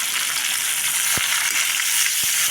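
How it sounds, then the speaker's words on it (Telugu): Close, steady sizzling of onions and green chillies frying in a pan, with a few soft knocks from stirring breaking through the constant hiss. "ఇప్పుడు ఉల్లిపాయలు పచ్చిమిరపకాయలు కొంచెం దోరగా వేగాలి"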